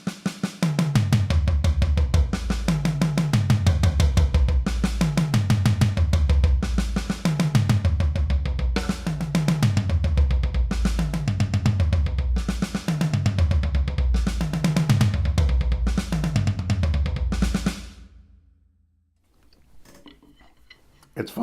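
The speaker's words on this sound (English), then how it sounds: "And then we can do an odd number of changes. 4-2-2, 4-2-2, 4-2-2, 4-2-2." A drum kit plays repeated fills in a 4-2-2 sequence, a fast steady run of sharp strokes cycling around the toms and snare for about seventeen seconds, then stopping into near silence.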